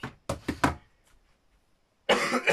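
One person coughs three quick times in a row, close and loud. After a short silence comes a longer, harsher burst.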